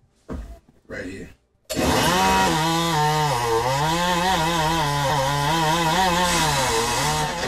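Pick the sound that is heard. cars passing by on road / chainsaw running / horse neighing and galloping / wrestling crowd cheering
chainsaw running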